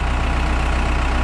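A Case backhoe's engine runs steadily with a low, deep hum after being shifted into gear, close and continuous with no talking.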